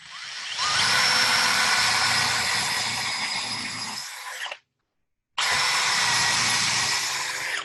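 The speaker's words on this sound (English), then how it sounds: "I'm going to use a hand drill because I don't have a camera on the drill press right now." A hand drill bores into a wooden bowl with a loud, close, steady whine, runs for about four seconds, stops briefly, then starts up again at the same level.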